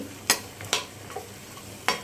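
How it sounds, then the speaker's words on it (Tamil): A spoon scraping and clinking in a frying pan a few times as cauliflower is stirred, with a soft sizzle underneath; close, no voices. "காலிஃப்ளவரை நல்லா உடச்சி விட்டு போட்டுட்டுக்கலாம் போட்டுட்டு நல்லா கிளறிக்கலாம்"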